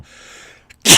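A single sharp sneeze bursts out loud and close after a short quiet intake.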